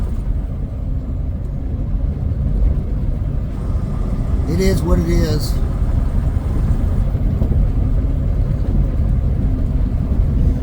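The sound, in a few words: truck engine driving down the road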